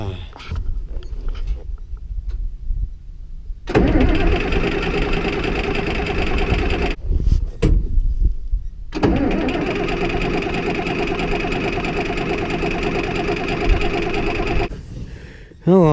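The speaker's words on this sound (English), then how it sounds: "I'm just gonna take and crank it over." A John Deere Model A tractor engine cranks over and catches, then runs with a steady mid-pitched chug that is broken by a short stop before starting again; the sound is loud and close throughout.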